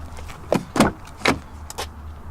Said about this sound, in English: You open the door, and then you have like a suicide type door that opens this way to access the back seat